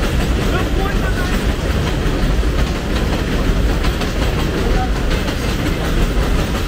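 An elevated train rumbles and clatters along the track overhead on White Plains Road in the Bronx, New York. The noise is loud and steady and fills the street for the whole stretch.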